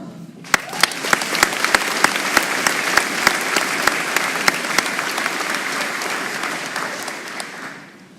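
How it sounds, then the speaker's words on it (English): Graduation ceremony audience applauding the graduating class, a dense full round of clapping with a few sharp individual claps up front, sustained then tapering off near the end. "let's give a great round of applause for this fine-looking class here"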